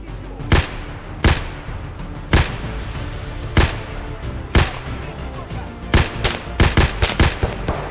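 Gunfire in Escape from Tarkov on the Shoreline map, sharp loud shots in irregular bursts, single cracks early and then a rapid cluster of shots near the end, with no voices.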